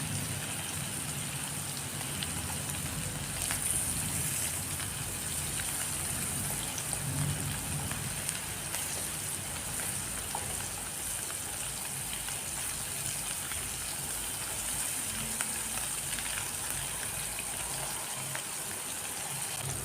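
Paneer pieces sizzle and fry in a pan for a gravy dish, a steady hissing crackle running throughout at moderate, close level with no talking.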